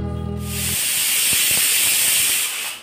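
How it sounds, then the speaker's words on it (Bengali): A pressure cooker boiling dal in a home kitchen lets out a loud, sustained steam whistle and hiss that holds steady for over two seconds after a brief low hum, with no talking. "দেখলেই প্রেসারে সিটি পড়ছে"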